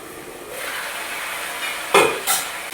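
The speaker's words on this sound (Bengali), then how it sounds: "তো সব কিছু ভালো করে একসাথে ভেজে নেবো একটু" Red amaranth stems and leaves frying together in a pan: a soft, steady hiss of frying, then two louder bursts of sizzling near the end as the greens are moved, with no voices.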